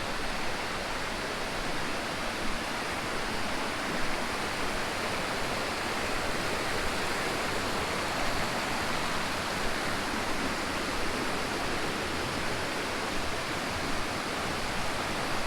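Steady, loud roar of the Aadyanpara waterfall near Malappuram, water pouring down over rocks in a dense, continuous rush with no pauses, heard alone for the whole stretch.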